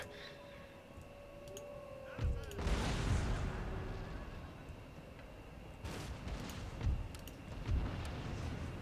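Musket volleys in the video game Empire Total War, a Russian army battle by a tree line, rolling out as distant, soft bursts of fire and booms with a voice talking over them.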